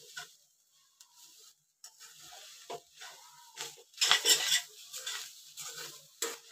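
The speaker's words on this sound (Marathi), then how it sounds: "तळापासून पूर्ण हे द्यायचं, ढवळून द्यायचं" Grated fresh coconut mixture for coconut vadi being stirred and scraped from the bottom of a pan over a low gas flame, with intermittent close scrapes and light clinks of a spoon, no talking.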